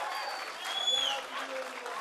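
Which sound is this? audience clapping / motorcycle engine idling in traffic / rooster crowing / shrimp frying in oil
audience clapping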